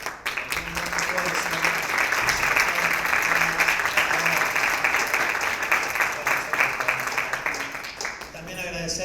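Audience applause at the opening of a university migration conference, a dense, steady round of clapping that holds loudly for most of the stretch and then tapers off as a voice returns.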